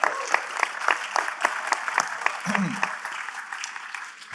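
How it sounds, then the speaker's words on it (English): Audience applause at a pitch-session event: dense, steady clapping from a seated crowd that carries through the whole stretch, with a brief low voice partway through. "Can I get a round of applause?"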